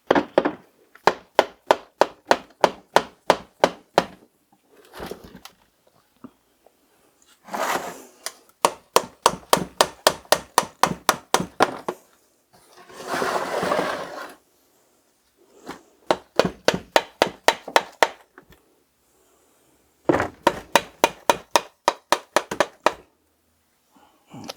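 Hammer tapping on the engine case of a Honda CB250RS motorcycle to break the gasket seal, heard as rapid bursts of sharp, close knocks separated by short pauses and a scraping rub, with no talk.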